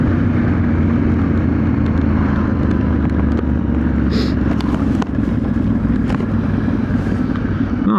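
A Yamaha Tenere 700 World Raid motorcycle engine braking on a ride, a steady loud rumbling drone with wind roar throughout, no talking.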